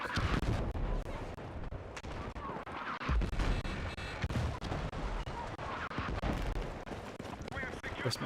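Mortar fire in the video game Battlefield 6: dense, rumbling explosions and booms one after another under continuous battlefield noise, with a voice talking over it.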